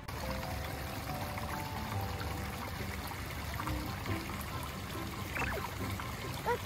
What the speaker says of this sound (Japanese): 流れてるね、川。